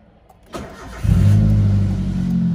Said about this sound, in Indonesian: saatnya kita start up mesinnya sambil kita dengarkan